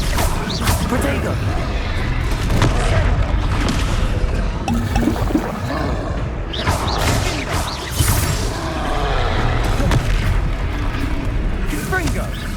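Confringo fire spells in Hogwarts Legacy combat go off in loud, repeated booming blasts among other spell effects and a rumbling battle din, with voices speaking throughout.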